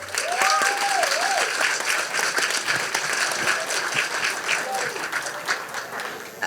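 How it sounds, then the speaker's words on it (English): A crowd at a Santa Clara County Supervisor campaign launch applauds in a sustained, dense burst of clapping, with a voice briefly audible over it early on. "Let's give all of us a round of applause"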